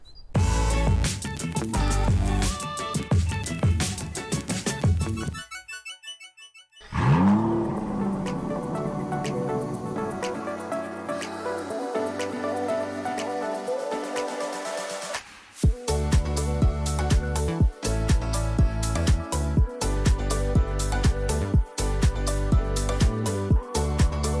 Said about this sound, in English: This is the Suzuki Vitara Strong Hybrid, a small crossover with all-wheel drive.